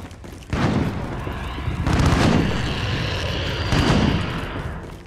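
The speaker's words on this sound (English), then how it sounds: "shoot a rocket up in that damn top uh, office building, man." Several heavy booms from Call of Duty MW, three deep blasts spaced roughly a second and a half apart over a continuous rumbling battlefield roar.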